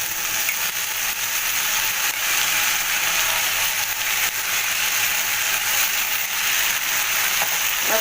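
A paste of ground coriander, cumin and turmeric pours into a hot pan for a papaya curry, setting off a continuous, even, close sizzle that holds steady throughout.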